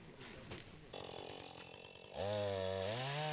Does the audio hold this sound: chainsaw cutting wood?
yes